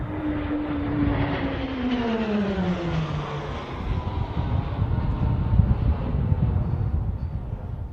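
Display aircraft in a formation pass at the Royal International Air Tattoo: a loud, steady engine roar sweeps past with a falling Doppler pitch, then a broad rumble continues, with no talk.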